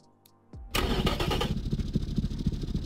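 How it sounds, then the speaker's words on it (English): A Honda D16V1 engine, bored out as a tuner build, cranks briefly after a short quiet moment, then catches and roars to life. It settles into a loud, steady, rough-edged running sound close by. "Let's fire it up."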